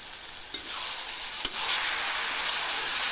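Taro leaves (kochu shak) frying in a pan with a little sugar, a steady broadband sizzle and hiss running throughout, close and fairly loud, with a couple of brief stirring clicks and no voices.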